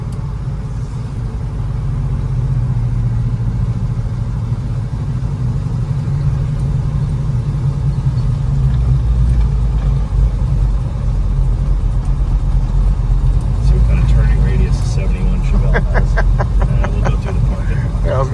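A 1971 Chevelle with a 502 big block V8 rumbles steadily and loudly from inside the car on a ride in Mexico, a deep continuous drone that swells in the second half, with voices talking over it.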